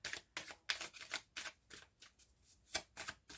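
Tarot cards are shuffled and cut by hand in a series of quick, crisp riffling bursts separated by brief pauses, close up and clear with no talking.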